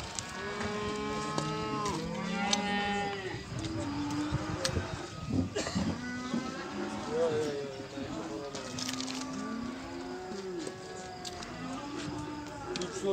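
Cattle at a livestock bazaar in Beylagan, Azerbaijan, moo loudly and repeatedly with long, deep drawn-out calls, close by and overlapping, while people talk in the background of the busy market.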